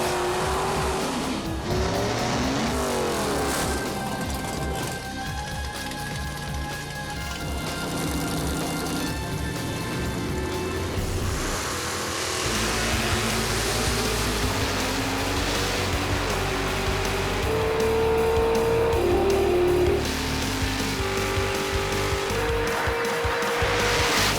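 A drag race car at a Pinks All Out event, a Ford Mustang versus Chevy contest, does a long, loud burnout with continuous tire squeal and roaring engine, filling the whole stretch without a break.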